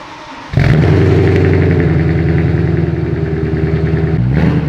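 A BMW M3 engine with a modified stock exhaust fires up and settles into a loud, deep, burbling idle with a throaty exhaust rumble, close by, before a brief rev near the end.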